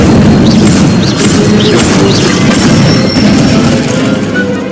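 Incendio fire spell cast in Hogwarts Legacy, a loud roaring burst of flame with a crackling, rumbling rush and faint sparkling chimes over it, sustained and close.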